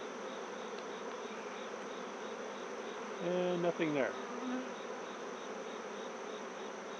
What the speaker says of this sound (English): Bunch of happy bees.